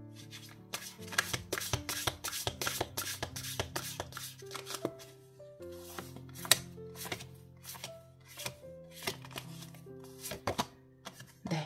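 Oracle cards are shuffled by hand in a long run of crisp, rapid riffling and slapping bursts, close and clear over soft sustained background music, with no talking.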